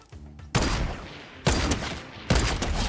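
A Tommy gun in Fortnite fires in three loud, rapid bursts about a second apart, each a dense rattle of shots with brief gaps of quiet in between.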